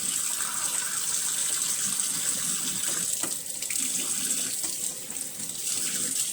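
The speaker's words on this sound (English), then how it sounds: "sending some water through each of the slides that I put soap in." Running water gushes steadily through trumpet slides and splashes into a sink, continuous and fairly loud, with slight dips in flow, no speech.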